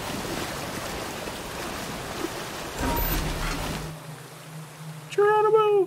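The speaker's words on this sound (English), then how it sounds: "Oh, it's emptying the well out." Water rushing and draining out of a well in ScuttleBuds, a steady wash of flowing water that cuts off abruptly near the end, followed by a short burst of chirpy sound.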